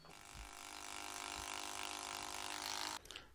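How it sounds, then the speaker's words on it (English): A power driver sinks a heavy-duty 10-inch construction screw into the beam of a homemade gantry crane, its motor whining steadily and loudly for about three seconds before stopping abruptly. "to fasten this down, I'm going to be using 10-inch construction screws"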